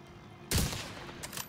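Gunfire from the video game The Division 2 in an open-world activity: a loud burst of shots at the start, then a few lighter shots trailing off, with no talking.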